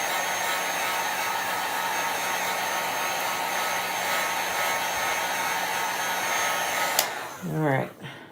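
A hair dryer blows steadily and close, drying chalk paste on a craft board, with a constant whooshing roar that holds for about seven seconds before being switched off and winding down.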